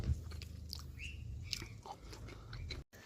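Chewing a dried, wrinkled Lilly Pilly bush cherry berry, with soft close crunching and mouth sounds over a low background rumble and faint bird chirps outdoors.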